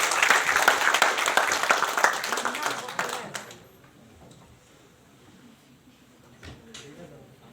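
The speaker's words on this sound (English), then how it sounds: "Please give them a round of applause." Loud audience applause at a college quiz competition prize announcement, dense clapping for about three seconds that fades out, followed by quiet room noise with faint knocks.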